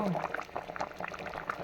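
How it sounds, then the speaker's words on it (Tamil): A pot of fish curry bubbles and simmers steadily, with small popping bursts close by and a voice talking over it. "எப்படி கொதிக்குது பார்த்தீங்களா"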